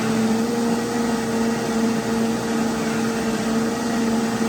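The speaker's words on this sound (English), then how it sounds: "I'll make sure we get it blended all up that creamy." Steady, loud whirring of a blender blending hemp seed ranch dressing, a constant motor drone with no pauses.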